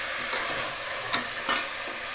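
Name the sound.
vegetables frying in oil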